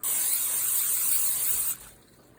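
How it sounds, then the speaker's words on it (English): A light burst of Pam cooking spray into a non-stick pan, a close, bright continuous hiss lasting under two seconds before cutting off abruptly. "do a light spray, nice and light."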